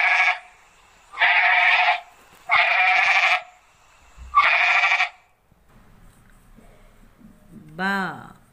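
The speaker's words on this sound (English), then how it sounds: "Goat or a sheep." A goat bleats four times in steady succession, each call loud and drawn out, followed by faint low rumbling and one short rising squeal at the end.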